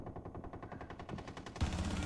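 Rapid automatic gunfire from the Rainbow Six Siege video game rattles in a fast steady burst, followed by a heavier impact near the end.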